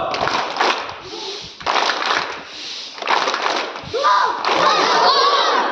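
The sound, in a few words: group doing a rocket clap cheer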